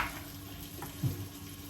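Onions fry in a little oil in a single pot, a faint, steady sizzle with a soft stirring knock partway through, heard close and alone.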